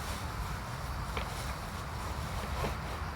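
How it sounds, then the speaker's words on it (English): Wind buffets the microphone in a continuous low rumble, with faint scattered knocks underneath. "got a little windy there"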